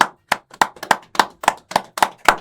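Commentators clap their hands during a Super Smash Bros. tournament stream, a steady run of about nine or ten sharp, close claps at an even pace, with no talk over them.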